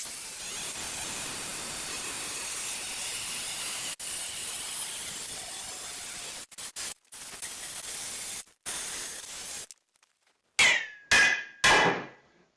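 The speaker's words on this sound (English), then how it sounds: "taking advantage of the brittleness of the metal to break it with a hammer" Cast metal made brittle, cut from a saw blade, being broken apart with a hammer, several sharp impacts near the end following a long stretch of steady hissing noise, loud and close with no speech.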